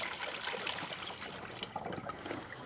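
Pink coolant trickles and gurgles steadily into the plastic reserve tank of a 2010-19 Dodge Ram with a 5.7L Hemi, a quiet, close liquid pour with no voices.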